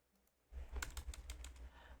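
Quiet, close keystrokes tap out a quick irregular run on a computer keyboard while typing in Microsoft Word.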